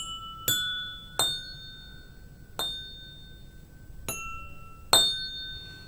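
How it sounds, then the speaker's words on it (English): Drinking glasses filled to different water levels struck one at a time, five bright ringing clinks spaced about a second apart, each with a clear sustained pitched tone that decays slowly, recorded close and alone without talk. "it is the last glass with lowest level of water that is producing the highest sound"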